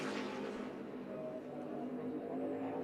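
NASCAR Nationwide race car on a qualifying lap at Bristol, a steady engine drone with tonal whine throughout, fairly loud and continuous, with a commentator's voice faintly underneath.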